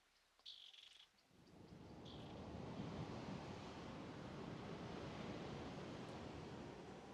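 Ocean surf rolls steadily beside a seaside deck, a dense, continuous wash of breaking waves swelling in after a brief quieter start with a couple of faint high chirps, then holding loud and close to the end.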